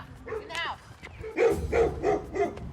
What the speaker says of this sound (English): Those dogs just got loose again, which kind of irks me.